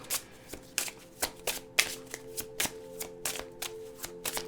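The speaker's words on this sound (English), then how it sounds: "let's pull out one more card" Tarot cards are shuffled by hand in a quick, regular run of about a dozen crisp riffling flicks, close and clear with no talking.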